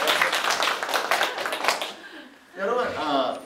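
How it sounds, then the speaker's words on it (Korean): A round of applause from a church congregation during a sermon, a dense burst of clapping lasting about two seconds before a voice speaks. "박수 한번 쳐드리겠습니다"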